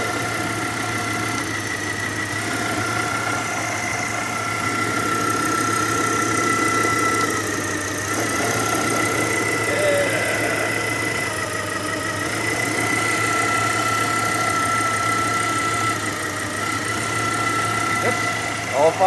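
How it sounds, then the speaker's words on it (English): A Hummer H3 five-cylinder engine idles steadily throughout, a continuous mid-pitched hum with faint vibration, heard up close during a spark plug job, with some talk nearby. "see if the engine noise changes"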